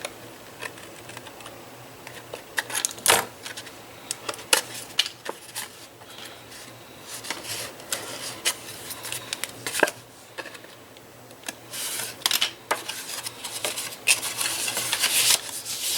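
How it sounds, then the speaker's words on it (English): Card scraps are cut along a score line with a craft trimmer. Sharp, irregular clicks and slicing scrapes come in uneven bursts over a quiet background, close and fairly soft, with no talking. "So I just want to get that cut away, and then straight down on that score line."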